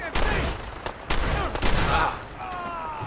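Shotgun blasts ring out in Fallout 4. Several sharp, loud shots come at irregular intervals, each with a booming tail, and quieter game sounds fill the gaps.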